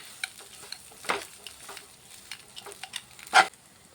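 Spiced potato filling for a Bengali snack is stirred in a pan over low flame, sparse scrapes and taps over a faint sizzle, with one louder clatter near the end.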